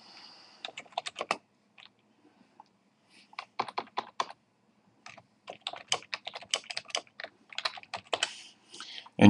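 Rapid bursts of typing on a computer keyboard while a new blog is set up, with clusters of close, crisp keystrokes separated by short pauses and no voice.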